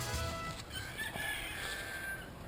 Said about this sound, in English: it's a shame he goes cock-a-doodle-doo